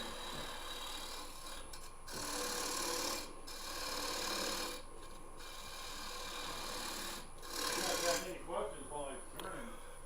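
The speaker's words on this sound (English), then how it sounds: "You're using the wing to cut that. Cutting the tenon." A woodturning tool's wing scrapes and cuts a tenon on a spinning lathe workpiece, a raspy rubbing hiss that comes in repeated passes with short breaks, while people talk quietly.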